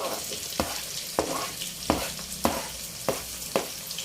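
Garlic, onion and mixed vegetables stir-fried in a pan: a steady close sizzle broken by about six sharp scraping clicks as a utensil stirs at a regular rhythm, with no talking.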